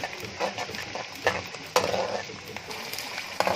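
Onions and green chilies frying in a tadka for Punjabi kadi pakoda, a steady close sizzle with scattered stirring clinks and scrapes throughout.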